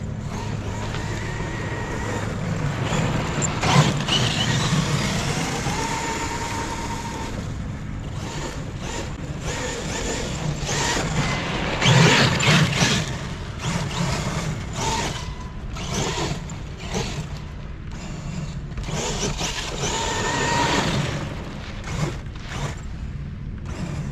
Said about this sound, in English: Smoking the tires on this surface